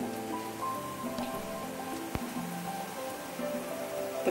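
Homemade rice rings deep fry in oil in a kadai over a medium flame, giving a steady, soft crackle and fizz with one sharp pop partway through.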